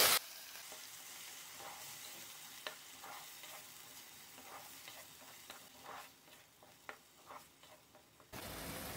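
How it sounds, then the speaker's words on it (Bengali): A blended paste of four medium onions, four garlic cloves and a piece of ginger fries in a pan over a low flame, giving a soft, steady sizzle broken by irregular scraping stirs, with no voices. "অ্যাড করে দিচ্ছি একসাথে ব্লেন্ড করে নেওয়া 4টি মিডিয়াম সাইজের পেঁয়াজ, 4 কোয়া রসুন আর 1 টুকরো আদা। ফ্রাই করে নিচ্ছি।"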